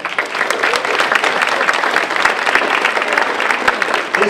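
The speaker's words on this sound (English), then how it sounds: "one more round of applause for these wonderful people" A crowd at a volunteer awards ceremony applauds steadily, many hands clapping in a dense, sustained burst at close range.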